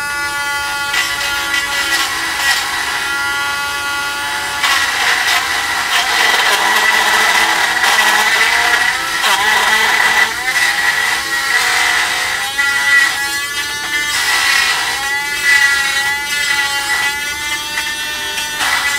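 A Dremel rotary tool grinds on an Academy 1/144 scale B-1B Lancer plastic model kit, making a loud, close, high-pitched whine that rises and dips in pitch as the bit bites and eases, steady throughout with no talking.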